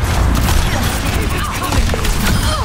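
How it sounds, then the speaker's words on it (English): A rocket barrage in Overwatch 2 pounds away as a dense, continuous rumble of loud explosions, with speech over it. "Rocket barrage incoming"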